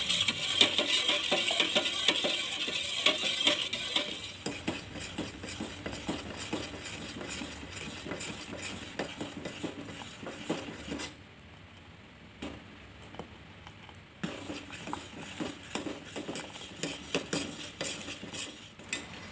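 A utensil stirs boiling chocolate milk pudding in a cooking pot, giving a steady run of close scraping and clinking against the metal with bubbling underneath, a brief quieter pause midway, then more stirring.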